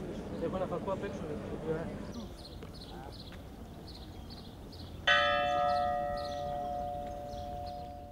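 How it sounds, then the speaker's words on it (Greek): A local church bell tolls slowly and mournfully during a ceremony, its ringing tones sustained and swelling after a stretch of busy background with voices nearby. "καθ' όλη τη διάρκεια της τελετής η καμπάνα στην τοπική εκκλησία χτυπούσε πένθυμα"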